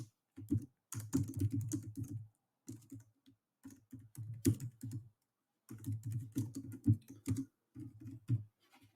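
Keys on a computer keyboard clack in quick bursts of typing, separated by short silent pauses, close and fairly quiet with no voice over them.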